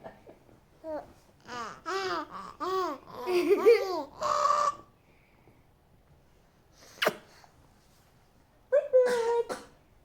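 A baby babbles and coos, then a single sharp sneeze bursts out near the middle, followed later by more baby vocalizing.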